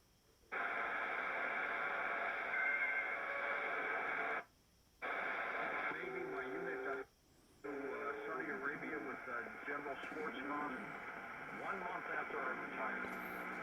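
Sony SW7600GR radio receiver sweeping across shortwave bands, dense hiss and warbling tones broken by two brief muted gaps, with fragments of distant voices drifting through.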